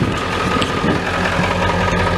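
A 1995 Ford F-350 with the 7.3L diesel, hard to start and smoking, idles close by with a steady low clattering rumble.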